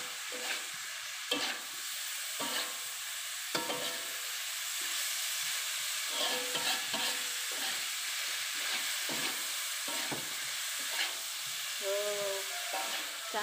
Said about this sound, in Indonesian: Terus kita aduk, pokoknya sampai bumbu itu menyerap